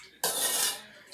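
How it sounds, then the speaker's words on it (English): A metal spoon clinks and scrapes against a bowl, stirring a dressing of vinegar, water, salt, sugar and pepper for a cucumber and onion salad; a single close, bright stroke lasting under a second. "I'm stirring in my witch's brew here of the vinegars and waters and salt and sugar and pepper"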